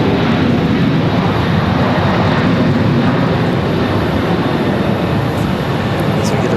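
A Boeing 737 airliner rolls at Charlotte Douglas International Airport, a loud, steady jet engine roar that fills the whole clip without letting up.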